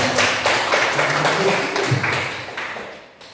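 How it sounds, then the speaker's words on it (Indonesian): Applause from a school audience, a short burst of crowd clapping with distinct hand claps, fairly loud and close, fading toward the end. "tepuk tangan."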